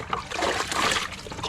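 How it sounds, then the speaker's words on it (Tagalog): Water spills and trickles from an overfilled gallon container on a small farm, a steady close splashing dribble that runs without pause for the whole moment. "Ay, natapon yung ibang tubig."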